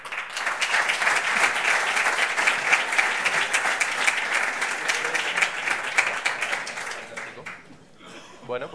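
Conference audience applause for an invited energy expert, a sustained round of dense clapping that holds steady for about seven seconds, then thins out and stops as a voice begins to speak.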